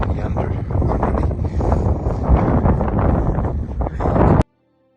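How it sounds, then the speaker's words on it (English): Strong wind on the sand dunes of Namibia buffets the microphone in a continuous roaring rush with gusty surges, loud and close, cutting off abruptly at the end. "It's very windy."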